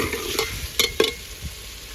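Vegetables tipped into hot tempered spices in a pan on a village kitchen stove, giving a soft sizzle with a few sharp scraping stirs, close and fairly quiet.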